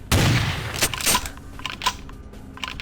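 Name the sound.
shotgun blasts in Vampire the Masquerade Bloodlines video game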